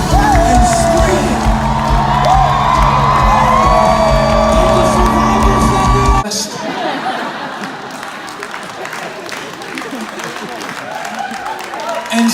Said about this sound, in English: I need us to take at least 18 seconds and scream